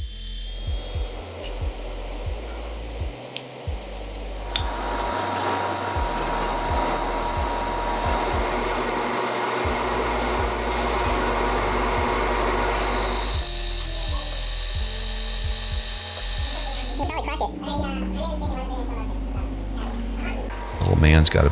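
A grinder does fine finish work on a knife made from a shotgun barrel, whining steadily and loudly for several long stretches broken by brief stops, with a spoken voice also present.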